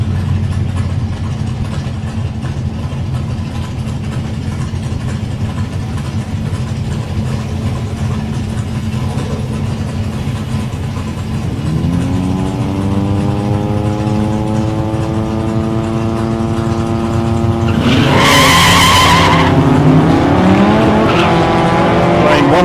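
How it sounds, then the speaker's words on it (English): A 2-litre Ford Cortina and an XA Falcon at a drag racing club, engines idling loudly before revving hard at launch, with a brief burst of tire squeal near the end. "in lane 1, in the 2-litre Cortina, we got Paul Jacobs. And lane 2, Travis Kirby in his XA Falcon"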